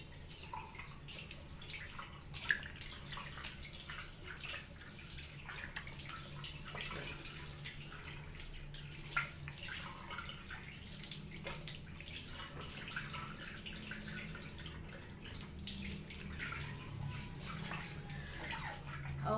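Tap water runs steadily into a sink during face washing, a soft continuous splashing with small drips, quiet and close, with no talking.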